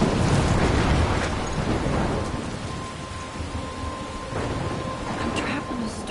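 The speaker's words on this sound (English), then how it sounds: "I'm trapped in a storm?" Heavy rain pours in a thunderstorm in the video game Life Is Strange, with deep rolling thunder at the start and a steady loud downpour throughout.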